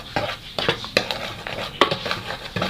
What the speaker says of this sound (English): I'll mix very well to combine.